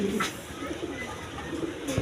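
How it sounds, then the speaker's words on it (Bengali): Pigeons of assorted breeds coo in a breeders' loft, a continuous low rolling cooing close by, with a few sharper bird sounds. "বিভিন্ন বিটের কবুতর আছে দেখেন"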